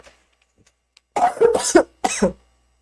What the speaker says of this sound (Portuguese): Só for falar agora, deu vontade de tossir.